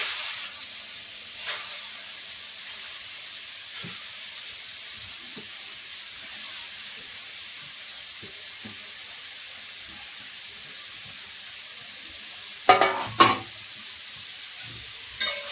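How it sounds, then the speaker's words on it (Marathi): Grated carrots sautéed in hot oil for halwa, a soft steady hiss of sizzling with a few light stirring taps and a brief louder clatter near the end, no voices. "किसलेले गाजर चांगले परतून घेऊ।"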